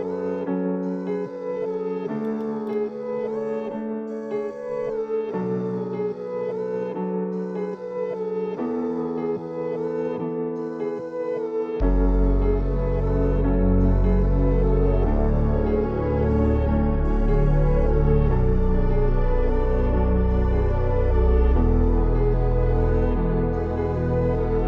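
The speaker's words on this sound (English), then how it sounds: "And then I have bass, and it sounds like this now." A melody built in FL Studio with a bass line added: synth notes play alone at first, then a deep, loud bass enters partway through and continues under the melody.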